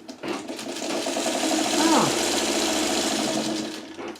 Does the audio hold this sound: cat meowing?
no